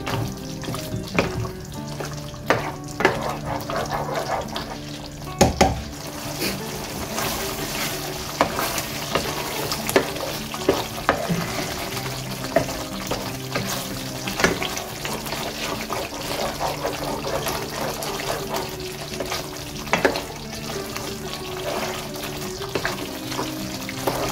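Pork belly for Bicol Express sizzles in a pan while being stirred, a constant frying hiss broken by repeated utensil scrapes and clacks against the pan, close up, with no one talking.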